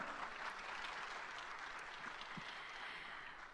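Sustained audience applause fills a product launch event for the Oppo Reno series, a dense, steady wash of clapping from a large crowd that holds evenly throughout and tapers slightly at the end.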